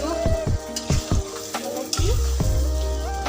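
Meat cooking in a pan is stirred, giving repeated scraping knocks of the utensil over a low sizzle, with faint voices and household noise behind.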